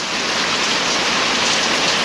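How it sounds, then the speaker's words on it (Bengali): Heavy rain pours down on a village in Muksudpur, Gopalganj district, making a loud, dense, unbroken hiss of drops striking surfaces close by, with no voices. "তো প্রচণ্ড পরিমাণ বৃষ্টি হচ্ছে দেখতেছেন।"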